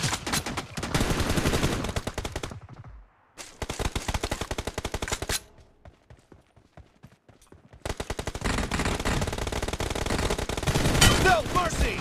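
Bursts of automatic rifle fire from an M416 in the mobile shooter BGMI during a team deathmatch, long loud rapid strings broken by brief pauses, one quiet stretch in the middle, with faint voice chatter.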